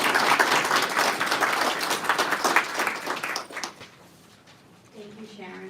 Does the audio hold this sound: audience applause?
yes